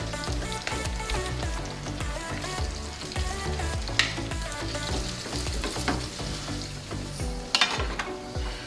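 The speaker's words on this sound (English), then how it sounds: "You want to toss the noodles in this awesome mixture here." Noodles sizzle steadily in a frying pan of garlic and oil for aglio e olio, with a constant crackling hiss and a few scraping stirs and clinks of a utensil against the pan, close and without speech.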